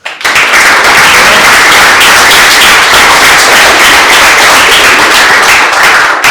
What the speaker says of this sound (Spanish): Un aplauso por eso, por favor.